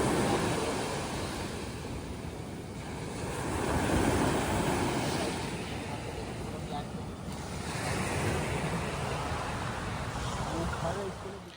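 Ocean waves break steadily on Kashid beach on the Konkan coast near Alibaug. The surf is a continuous rushing roar that swells and recedes, with some wind buffeting the microphone.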